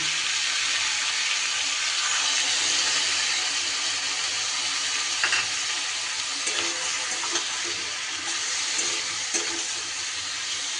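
Ground spices and vegetables for a fish curry sauté in a pan, a steady close hiss and sizzle broken by a few soft scrapes of stirring, without speech.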